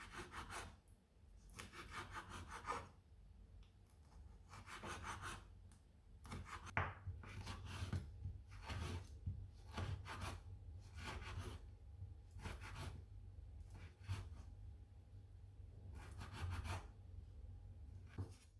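A knife chops orange peel into narrow slices on a board, a quiet, close series of crisp cuts in uneven bursts with short pauses between them, with no talking.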